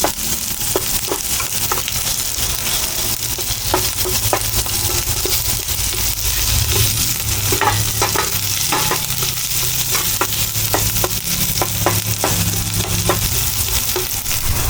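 Tomatoes go into a pan of golden-browned garlic and onion for a mussel dish, setting off a steady close sizzle with repeated scraping stirs and clicks of a utensil against the pan throughout.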